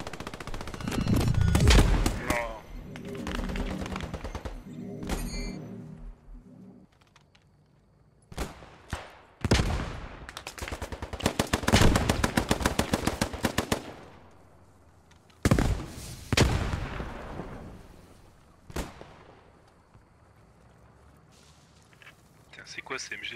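Automatic machine gun fire in the World War II shooter Post Scriptum during a night assault, loud bursts of rapid shots alongside explosions and scattered single shots, with players talking over the action.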